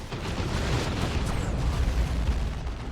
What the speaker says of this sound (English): Fire Prism's in play though. Looks like it's using its focused shot.